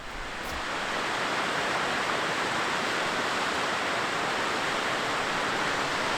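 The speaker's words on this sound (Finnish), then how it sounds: "Ja aika hieno pieni putous onkin." A small waterfall in the Routasenkuru gorge pours with a dense, steady rushing roar that stays loud and constant throughout, with no voices.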